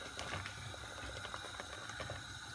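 Pasta cooking in a pot of boiling water on the stove, giving a steady low bubbling and simmering patter that runs continuously at moderate level, with no talk.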